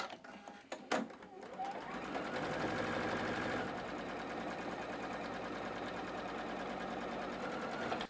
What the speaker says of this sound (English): as I get ready to sew this triangle to this outside edge here